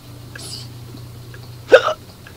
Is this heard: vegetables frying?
no